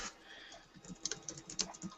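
Computer keyboard typing, a steady run of light clicking keystrokes with a few sharper taps, close and fairly quiet with no one talking.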